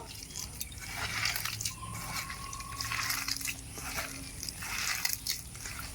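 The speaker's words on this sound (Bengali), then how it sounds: "সামান্য একটু জল দিয়ে দিচ্ছি অল্প অল্প করে জল দেব আর মাখতে থাকবো" Raw banana pakora batter with onion is kneaded by hand as water goes in little by little, making soft, wet squishing and slapping sounds that repeat close up.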